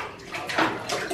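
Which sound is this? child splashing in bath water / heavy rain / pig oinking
child splashing in bath water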